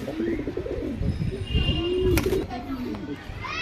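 Male pigeons offered for sale coo close by in soft, rounded, repeated coos, mixed with light chirps and a brief flutter.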